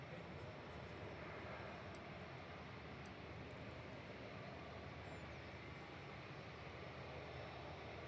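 A Lufthansa Airbus A321-200 from Frankfurt touches down far off at Manchester Airport, a faint, even engine rumble and rush lasting throughout without change.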